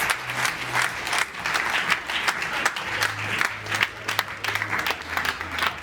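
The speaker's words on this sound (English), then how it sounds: "Let's bring in the checks, ladies and gentlemen. Once again, with a big round of applause." Audience applause fills a large London event hall as oversized winners' checks totalling 500,000 euros are brought on stage; steady, dense clapping runs the full length, with a low droning tone in the background.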